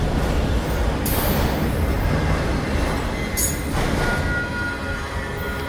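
A Union Pacific freight train rolls past close by, a loud sustained rumble of wagons with sharp wheel squeals flaring at intervals over the steady roar.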